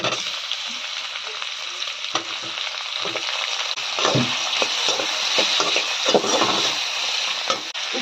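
Ginger garlic paste sautéing in a hot pan while making spring onion thokku, a loud, continuous close-up sizzle broken by repeated scraping stirs.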